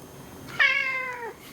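A single cat gives one clear, close meow that rises and then slowly falls over about a second, heard alone against a quiet background.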